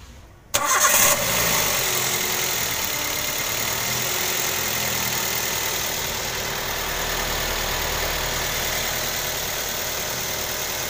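A 2012 Toyota Avanza Veloz engine cranks and catches, then settles into a steady, smooth idle that runs on continuously, close and fairly loud with no talking.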